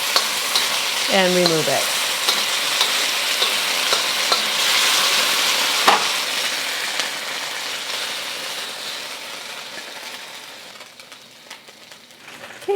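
Beef searing and stir-frying in a hot pan, a loud, close, continuous sizzle with scraping stirs and a sharp clank partway through, while someone speaks briefly near the end.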